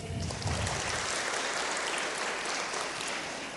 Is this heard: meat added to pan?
no